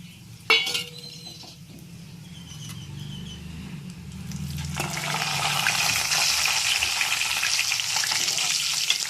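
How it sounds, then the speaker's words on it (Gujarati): Cashews and almonds hit hot ghee in a pot with a clatter, then a steady, rising sizzle of frying builds and holds, fairly close, with a few clinks of a pan. "થોડા આપણે કાજુ બદામ ફ્રાય કરી લઈએ."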